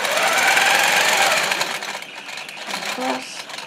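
A sewing machine stitches a straight line along a quilting ruler, running in a loud, steady mechanical whir that slows and grows more uneven in its second half, where a voice speaks briefly.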